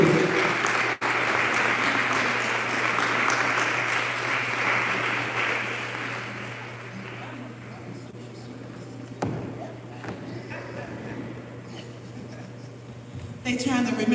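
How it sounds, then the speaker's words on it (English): An audience applauds loudly at an awards dinner, the dense clapping gradually thinning and fading over the span, with faint voices and scattered claps toward the end. "Y'all clap it up for our sister."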